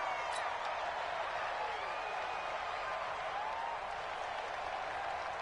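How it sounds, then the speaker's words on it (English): Roaring stadium crowd in a football video game, a dense, steady wash of cheering and applause that stays loud and unbroken throughout, with no clear talk over it. "The crowd's not doing that O-line any favors."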